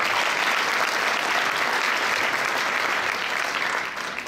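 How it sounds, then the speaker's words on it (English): Loud, dense applause at a high school athletic banquet as the Mules varsity team is honored, a full crowd clapping steadily before it begins to taper off. "let's give them a round of applause, please"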